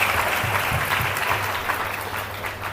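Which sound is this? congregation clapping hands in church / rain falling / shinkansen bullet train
congregation clapping hands in church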